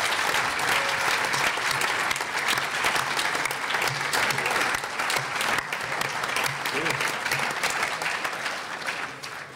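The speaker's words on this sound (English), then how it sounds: "they really deserve a big applause" A hall audience gives sustained, dense applause for young Star Trek-inspired essay competition winners at a European Parliament event, loud and continuous for several seconds before thinning slightly.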